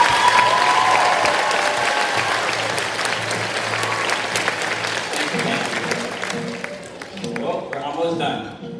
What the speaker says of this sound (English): Can you clap it up one more time just for him?